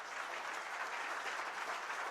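An audience claps together at a school board meeting, a dense, steady burst of applause that fills the room without a break.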